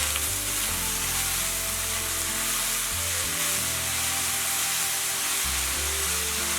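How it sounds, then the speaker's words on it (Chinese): Potatoes stir-frying in a wok with chili oil, salt, soy sauce and light soy, giving a steady, loud, close sizzle that runs without pause under occasional scraping stirs. "炒出红油，把土豆下入锅中， 翻拌均匀以后"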